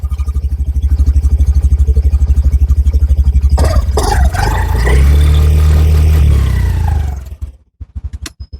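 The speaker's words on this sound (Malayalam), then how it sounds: "ഇതാണ് ഇതിന്റെ ഒരു ഐഡിയലിംഗ് സൗണ്ട് വരുന്നത്." A Honda Activa 125 scooter idles with a steady, rapid exhaust putter from the silencer, close and loud, rising briefly partway through before the engine cuts off and a few clicks follow.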